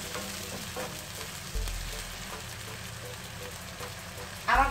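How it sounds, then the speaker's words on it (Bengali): Chopped onion frying with ginger-garlic paste in oil, a steady soft sizzle throughout with occasional stirring scrapes and a brief louder clatter near the end. "এই আদা রসুন সহ পেঁয়াজটাকে খুবই ভালো করে ভেজে নিতে হবে।"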